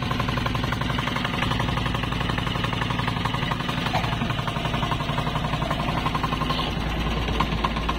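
An 18-horsepower Yamada diesel boat engine chugs steadily at close range, with rapid, even knocking pulses and a constant rumble that never lets up.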